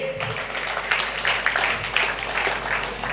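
Steady applause from a crowd, dense clapping throughout with a few louder bursts, no talking.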